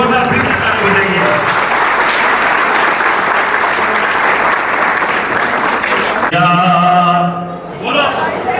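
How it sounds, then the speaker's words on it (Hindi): A seminar audience claps loudly in dense, sustained applause for several seconds, then a tonal voice or music cuts in over the fading claps. "साहब के लिए जोरदार फिर से ताली बजाइए"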